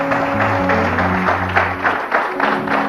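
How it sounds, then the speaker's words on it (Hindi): A studio audience applauds at a humorous talk show with Anwar Maqsood, a dense, steady wash of clapping held at close range over a sustained low musical tone. "शुक्रिया, बहुत सारी तालियां होनी चाहिए।"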